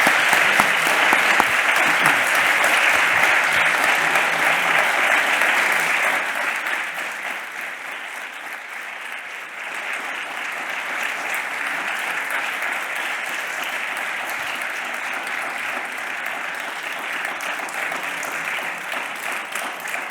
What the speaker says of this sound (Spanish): Muchísimas gracias. Me honran sus aplausos.